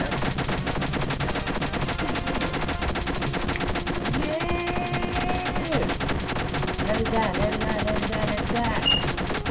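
Rapid gunfire in a video game, dense automatic bursts crackling continuously at close range, mixed with game effects and occasional tonal sounds.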